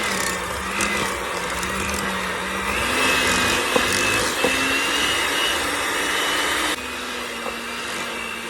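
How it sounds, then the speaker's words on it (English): An electric hand mixer beats room-temperature cream cheese until creamy, a steady motorized whir with shifting pitch that drops slightly near the end, running continuously with no talking. "Let's get our cream cheese all beat up and creamy."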